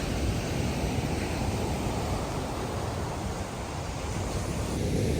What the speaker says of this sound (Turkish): Dalgalar da çok güçlü.